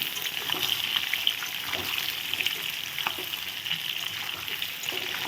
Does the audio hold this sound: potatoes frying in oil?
yes